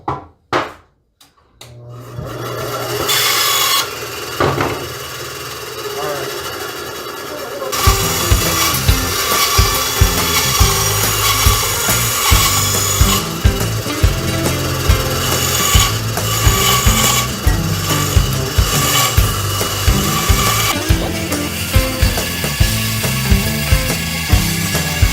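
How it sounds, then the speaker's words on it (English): A bandsaw cuts through a pine block for a pinewood derby car, starting after a quiet lead-in with a steady close whine and rhythmic ratcheting texture as the wood feeds through the blade, with no talking. "to show you guys how to use the bandsaw"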